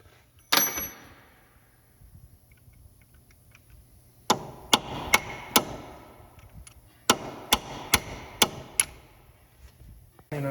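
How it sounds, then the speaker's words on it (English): Sharp metallic hammer blows strike a punch staking a wheel bearing nut on a 2012 Toyota Matrix, one early hit then two quick bursts of four or five evenly spaced strikes, close and crisp against a quiet garage. "To stake this. Need a bigger punch."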